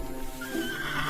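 A horse whinnies, a bright wavering neigh with hoof clatter underneath, close and fairly loud with no talk.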